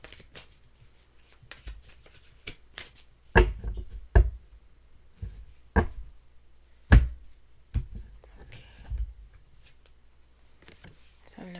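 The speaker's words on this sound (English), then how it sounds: "Two more shuffles." Tarot cards are shuffled in a series of soft riffling bursts and taps, close by, with a voice speaking briefly among them.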